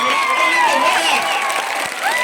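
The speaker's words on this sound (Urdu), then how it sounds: "سب لوگ اس لڑکے کو کھڑے ہو کر تالیاں بجائیں" An audience applauding and cheering for a boy at a motivational talk, a dense roar of clapping with crowd voices mixed in, loud and close throughout.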